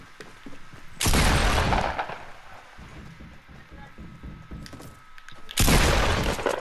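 Grenade launcher explosions in a shooter video game, two loud full-band blasts about four seconds apart, each with a long rumbling, crackling decay, and a low rattle of game noise between them.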